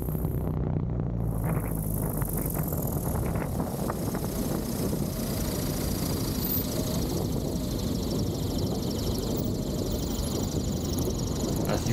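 Constant engine drone of a small airplane descending to land over a 50-foot obstacle, a loud, unbroken hum with cockpit rumble and no speech.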